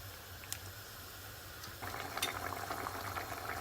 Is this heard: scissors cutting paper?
no